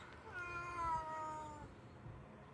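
A cat on a remote island fishing trip gives a single drawn-out meow, faint and somewhat distant over a low background rumble.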